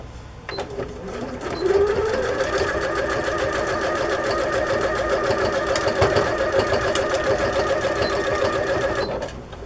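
A new sewing machine sews a straight stitch through the pages of a lace-up card journal. The close, loud, even hum with a fast mechanical rattle runs steadily for about eight seconds, with no voices.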